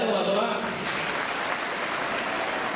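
An audience claps at a NEET results felicitation at Shivsai Universal Junior College, Buldana, a dense burst of applause after a brief voice at the start, steady and moderately loud until the end.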